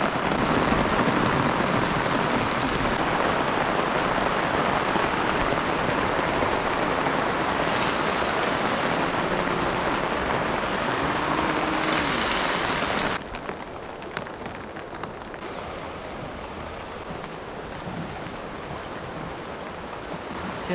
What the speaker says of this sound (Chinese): 现在下着大雨